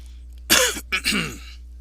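Close, loud coughing and throat clearing in two harsh bursts separated by a short pause, over a steady low hum.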